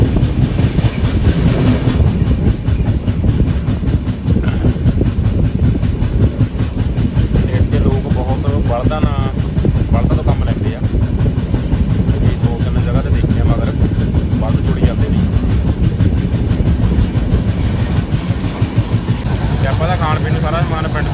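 Loud rumble and rhythmic clickety-clack of a moving train from Punjab toward Hazur Sahib, slowing down, continuous throughout, with voices talking faintly underneath.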